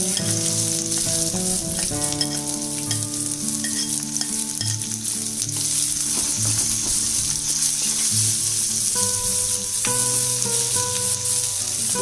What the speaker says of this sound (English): Fry your onions for about a minute or two